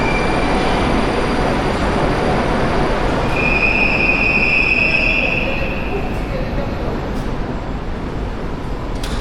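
Inside Sukharevskaya station on the Moscow metro, a train rolls with a loud steady roar, and a shrill wheel squeal rises midway before the rumble eases slightly.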